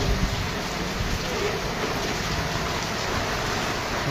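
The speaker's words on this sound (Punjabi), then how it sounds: "ਬਰਸਾਤ ਪੂਰੇ ਜੋਰਾਂ ਨਾਲ ਚਾਲੂ ਹੋਈ ਪਈ ਹੈ" Heavy rain pours down steadily in Sri Karanpur, a dense, loud hiss with a low rumble underneath, continuous for the whole stretch with no voices.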